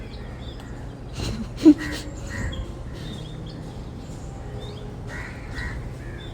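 A single short crow caw rings out once against a quiet outdoor background with faint distant bird calls.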